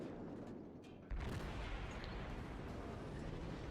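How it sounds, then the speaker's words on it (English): Ship cannons fire shells in a naval video game, a heavy boom at about one second that leaves a loud, rumbling wash of battle noise behind it. "Lob those shells every 7 seconds"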